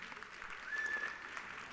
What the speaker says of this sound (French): il y a des applaudissements dans la salle